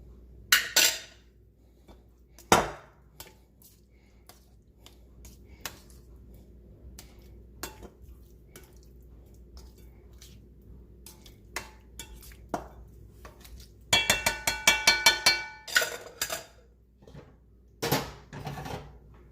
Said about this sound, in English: Now I'm going to toss everything together